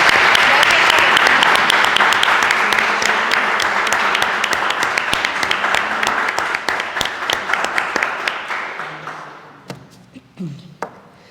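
Audience applause closing a plenary lecture at a literature symposium, a dense wash of clapping that thins into scattered individual claps and fades out near the end.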